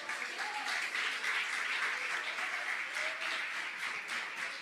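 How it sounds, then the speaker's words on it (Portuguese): A church congregation applauds together in steady, sustained clapping that fills the space at an even level from start to finish, with no voices standing out. "Você pode aplaudir ao Senhor?"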